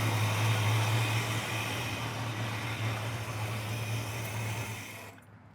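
A Ford 429 V8 in a 1972 Mustang Mach 1 idles with a smooth, steady low rumble that holds evenly and close before cutting off abruptly near the end.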